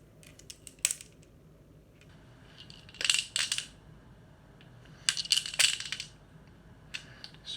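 A penny and a scrap of paper drop inside a vacuum tube. Sharp metallic clinks and rattles come in a few separate bursts, with quiet gaps between them and no voices.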